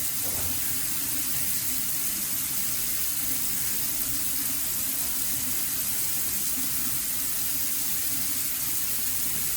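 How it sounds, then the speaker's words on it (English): Tap water runs steadily into a kitchen sink while hands are washed, a loud, even hiss of close splashing that lasts throughout with no talking. "I'm going to wash my hands real quick"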